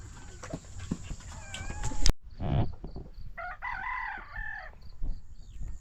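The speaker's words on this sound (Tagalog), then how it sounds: "Papakain po tayo ng ating alaga. Manok." Farm chickens cluck and a rooster gives a short crow nearby during feeding, with a sharp thump in the middle and some soft background noise.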